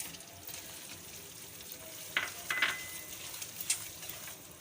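Semolina for halwa goes into a hot pan and is stirred, a soft, low sizzle broken by a few sharp scraping strokes and light clinks close by.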